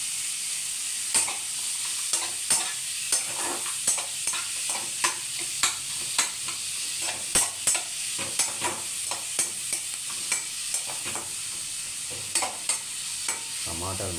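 Cashews frying in a pan for paneer masala, a faint constant sizzle punctuated by regular sharp taps and scrapes of a spatula stirring, roughly one or two per second.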